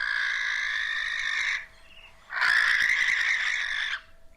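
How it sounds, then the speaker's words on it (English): Two long, harsh hissing screeches of a Western barn owl, loud and close, separated by a short pause, with no speech. "that's the sound a Western barn owl made"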